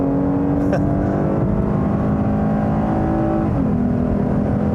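A 2019 Lexus IS 350 F-Sport sedan's engine revs hard at full throttle, a loud sustained roar climbing in pitch before a brief shift, heard from inside the cabin.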